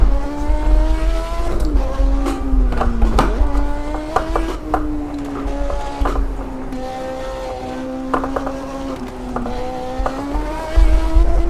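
Race car engine in the Automobilista 2 racing game revving hard through gear changes with turbo behavior, rising and falling pitch sweeps and repeated shifts, loud and continuous with brief tire squeal.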